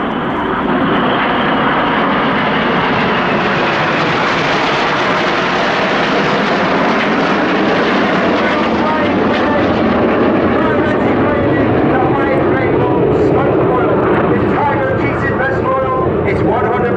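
Loud continuous jet roar from Red Arrows Hawk jets in a flying display at the RIAT airshow, swelling and shifting in pitch as they pass, with commentary voices running over it throughout.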